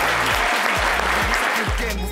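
An audience claps loudly and steadily for singers at a French midday show, with dense continuous applause throughout and a few faint low thumps beneath it.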